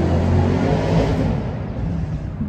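A motorbike rumbles past close by, a steady broadband engine drone that holds loud across the moment with no talking over it.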